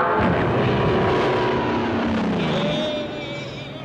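Engine drone of a model propeller plane, heavy and continuous, fading somewhat toward the end as it passes overhead, with a rising whine joining in near the close.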